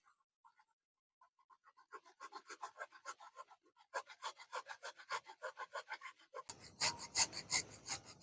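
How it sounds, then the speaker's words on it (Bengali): Onion and tomato rubbed across a grater for a koi fish masala make rhythmic rasping strokes that start faint and sparse, then grow steady and louder, turning harsher near the end. "আমি পেঁয়াজ আর টমেটোটা গ্রেট করে নিচ্ছি।"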